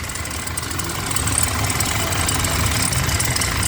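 A loud, steady Toyota HiAce Grandia van engine idling with a rough, rattling mechanical clatter, close by and continuous, with no talking.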